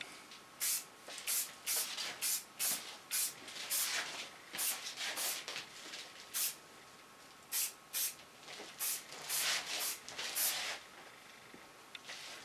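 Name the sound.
hairspray being sprayed on styled pixie haircut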